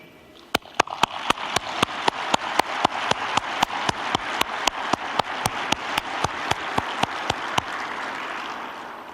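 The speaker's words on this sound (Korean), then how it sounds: "오늘 무역인들에게 힘찬 격려의 박수를 보내주십시오" Applause from the audience at a national trade day ceremony, with many sharp regular claps over a broad, steady roar of clapping that swells and continues throughout, no talk over it.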